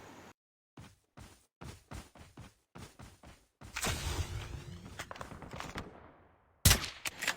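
Gunfire in a mobile battle royale game, a rapid series of separate sharp shots followed by a dense burst of sustained firing and one loud final blast, close and punchy.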